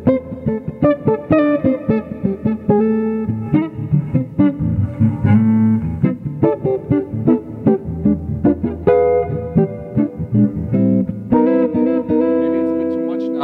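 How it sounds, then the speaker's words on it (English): An electric guitar plays a clean-toned, slow melodic phrase through a reverb pedal and AMP1 amplifier, with notes ringing out and a spacious reverb tail between plucks. "So this can be a reverb."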